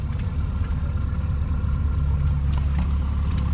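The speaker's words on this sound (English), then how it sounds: "Three-cylinder, two-stroke diesel. That's why they're so loud." A three-cylinder two-stroke GM 371 diesel engine running at a tractor show, a steady low rumbling idle heard up close with faint background noise.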